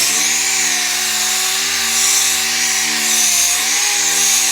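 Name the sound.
sanding a car pillar with 320-grit sandpaper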